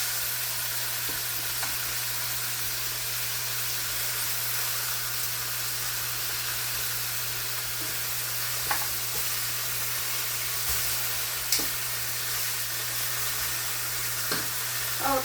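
Pork chops browning in a hot pan sizzle in a steady, bright hiss with occasional small pops and crackles, a low hum underneath, and no talking.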